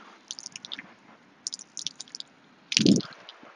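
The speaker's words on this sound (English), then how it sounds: "I'm going to squirt the legs off right around the foot, and I'll up and down that leg." Tap water squirted from a squeeze bottle onto a tripod leg around the foot, short wet squishing spurts in irregular bursts, ending with a louder splashy squirt, close and otherwise quiet.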